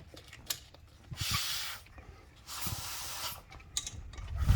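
Compressed air blasts through a narrowed hose end around the glow plugs of a 7.3 IDI diesel in a Ford E350 shuttle bus, two sustained hissing bursts of about a second each with faint clicks between.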